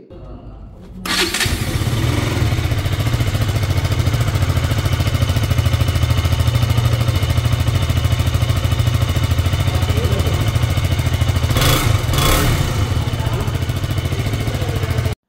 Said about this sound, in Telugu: ముందుగా అయితే మీరు ఎగ్జాస్ట్ సౌండ్ అయితే వినండి మీరు ఒకసారి